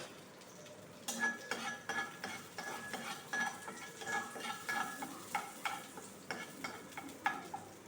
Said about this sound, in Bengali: এই যে কারি পাতা দিয়ে দিচ্ছি।